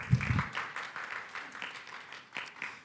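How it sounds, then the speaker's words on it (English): Scattered applause from an audience at a G20 Digital Innovation Network startup pitching session, a modest, somewhat distant patter of clapping that rises and falls. "Let's give a round of applause for Mrs."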